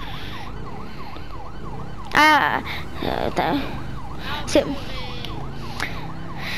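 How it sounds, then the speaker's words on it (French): An ambulance siren in the GTA Los Santos video game wails in a repeating rising-and-falling pattern, moderately near, with a louder burst partway through, while someone speaks briefly over it. "une ambulance va venir"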